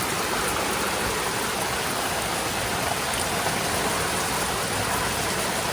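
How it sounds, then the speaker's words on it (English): Heavy rain pours down in a steady, dense hiss, unbroken and loud from start to finish. "Now it is back to absolute downpour."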